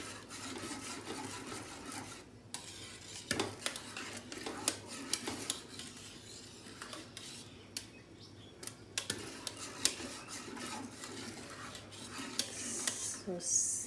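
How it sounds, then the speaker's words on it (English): Milk curdling with a spoonful of vinegar is stirred gently in a pot, giving soft intermittent scrapes and clinks of a spoon against metal over a low room hum, moderately close and quiet. "And then again, give it a stir. Nice stir, but very gentle."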